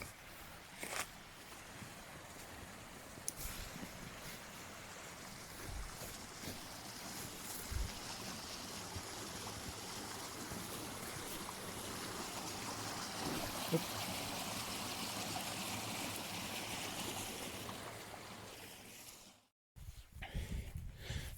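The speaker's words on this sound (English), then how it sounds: "now we have to cross that river" A river on a mountain walk from Kojori to Asureti rushes in a steady, broad hiss throughout, with occasional knocks from handling, then cuts off abruptly near the end before a brief noisy return.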